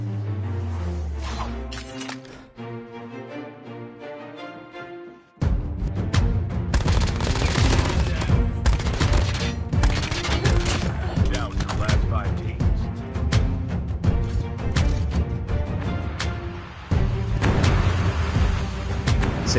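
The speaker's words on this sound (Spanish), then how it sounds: "Por aquí escuché disparos." Rapid bursts of gunfire crackle over a dense, loud soundscape, shots coming in clusters and fusillades after a quieter musical opening.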